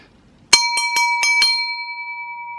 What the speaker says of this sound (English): this also has a really nice ring to it